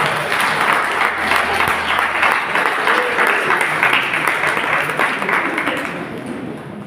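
Applause from an audience at a storytelling night of southern Jalisco legends comes as a thick, steady wash of clapping that holds strong, then tapers off in the last second.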